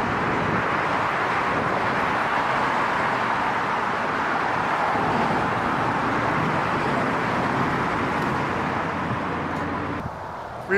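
Steady, dense roar of fast-moving freeway traffic beside a train station, a continuous wash of engine and tire noise with no pauses and no talking.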